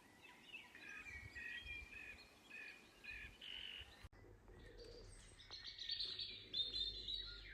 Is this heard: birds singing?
yes